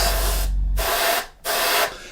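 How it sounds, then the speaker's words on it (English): An airbrush sprays black paint onto the engines of a Revell 1/32 He111 model kit in three short hissing bursts with brief pauses between them, close and fairly quiet. "So what we're going to do is just going to now spray in a little bit of black just on top of these engines."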